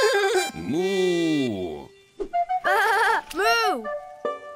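Several voices imitate cows mooing in long, drawn-out, sliding tones, overlapping and loud, with short pauses between rounds of the calls.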